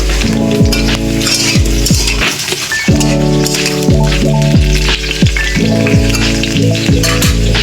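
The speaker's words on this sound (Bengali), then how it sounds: "আমি এখানে কড়া চাপিয়ে দিয়েছি, তেল গরম হয়ে গেছে। আলু আর পেঁপেগুলো নেড়ে দেবো আগে।" Potatoes and papaya frying in hot oil in a wok, a loud continuous sizzle with repeated metallic clinks and scrapes of a spatula stirring close by, no talk.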